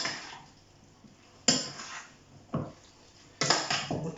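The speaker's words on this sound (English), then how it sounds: "So I'm just going to stir some through." A spoon stirs beef stock into corned beef hash in a pan, giving a few separate clinks and scrapes against the metal amid soft sizzling, fairly quiet and close.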